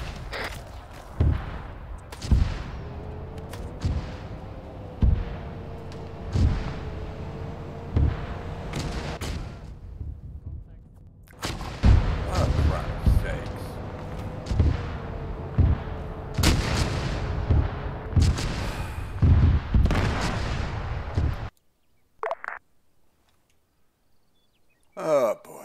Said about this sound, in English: Mortar rounds firing.